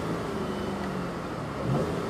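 A 2014 Buick LaCrosse engine revving with the accelerator floored, a muted, steady mid-pitched drone heard from inside the quiet car, rising slightly toward the end.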